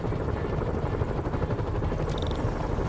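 Helicopters in the video game Marvel's Spider-Man, a loud continuous rotor thrum and engine drone with steady beating, plus a brief high tone near the end.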